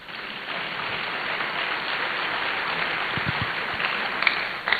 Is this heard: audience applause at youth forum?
yes